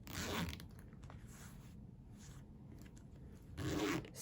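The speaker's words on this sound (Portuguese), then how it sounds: "Bolsinho em zíper." A zipper on a sewn zip pocket of a handmade fabric bag is pulled open and then closed again, two quick rasping runs framing a quiet pause, soft and close up.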